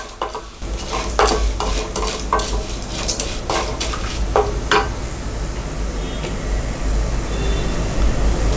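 Fennel seeds and cinnamon roast in hot oil for a moong dal sambar, a steady sizzle with spoon-on-pan scrapes and clinks through the first half, then a continuous close frying hiss with no talking.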